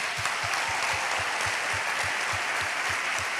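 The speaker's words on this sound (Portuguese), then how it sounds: "Uma salva de palmas para os nossos voluntários." A church congregation applauds its volunteers, a soft, even wash of many hands clapping at a distance, with a faint regular thump running underneath.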